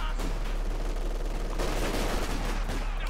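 Light machine gun fire in a Company of Heroes 2 battle: dense, continuous rattling bursts of gunfire mixed with battlefield noise, loud throughout.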